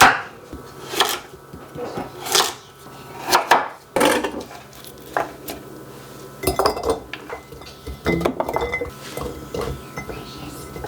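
A knife chops beets into half-inch pieces on a cutting board, striking in irregular sharp knocks and clinks, with clusters of quick cuts separated by short pauses.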